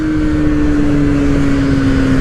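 A KTM Duke 250 BS6 motorcycle engine holds a steady high-rpm drone near 8000 RPM, loud and close, with a strong constant tone and no pauses.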